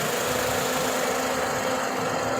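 A Suzuki car engine fitted with a hydrogen kit running steadily: a close, continuous idling drone with a low rhythmic pulse and no clear revving, no voices.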